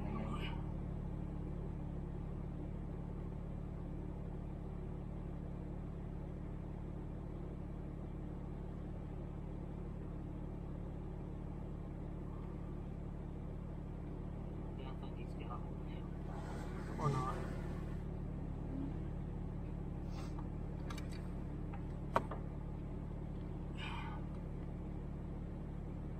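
An off-road Jeep TJ engine rumbles steadily as it works up the Sidewinder trail at the Gulches ORV area, a low continuous drone with a brief surge near the middle, and people talk over it.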